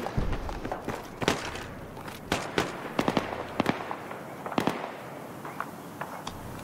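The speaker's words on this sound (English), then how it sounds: "Sniper fire." Distant sniper gunfire in the video game Battlefield 3, sharp isolated cracks at irregular intervals, some single and some in quick pairs, over a steady low background rumble, no voices.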